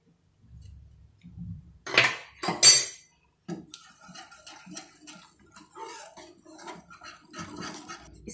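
A spoon scrapes and clinks against a pot while a thick chocolate cocoa drink is stirred continuously, giving quick metallic taps and soft scraping that come close and fairly faint, with short pauses.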